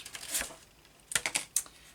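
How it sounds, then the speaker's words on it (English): Scissors snipping paper during an ephemera craft project, a few short crisp cuts, one early and a quick cluster of three or four later, close and fairly quiet. "Yes, I'm very awkward with my scissors, aren't I?"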